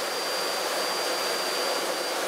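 Jet Provost JP5 jet trainer engine in flight, a steady loud roar with a sustained high whine, heard from close by without voices.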